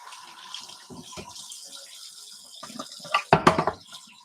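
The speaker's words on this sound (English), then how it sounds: "Let me wash my hands." Tap water running at a kitchen sink while hands are washed during dinner preparation, a soft steady flow that turns louder and splashier with sloshing near the end.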